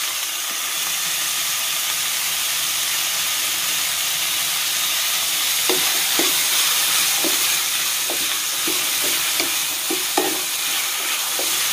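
Onions with added salt sizzle and hiss steadily in a pan, and partway through a series of light scraping clicks from stirring joins in at irregular intervals.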